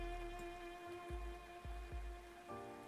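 Steady rain patters in the video game Arknights, a soft continuous wash with a few heavier drops landing, under a sustained musical tone, with no talking.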